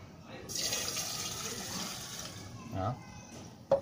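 Water from a tap pours into a simple measuring cup, a soft steady hissing stream lasting a few seconds, then a small clink.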